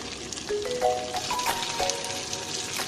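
Garlic and green chillies frying in sesame oil for a curry leaf pickle, a steady close crackling sizzle with a few faint tonal squeaks over it.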